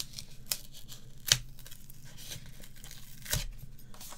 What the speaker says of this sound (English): So let's peel this gently off.